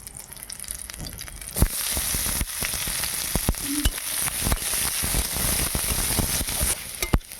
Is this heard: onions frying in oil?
yes